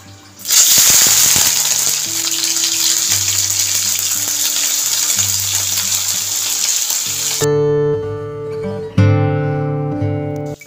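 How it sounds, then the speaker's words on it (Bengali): Shrimp frying in oil in a wok, a loud, dense sizzle that erupts suddenly and holds steady, with music playing underneath and a quieter spatter toward the end. "এবার কড়াইতে পরিমাণ মতন তেল দিয়ে চিংড়ি মাছটাকে আগে ভেজে নেব।"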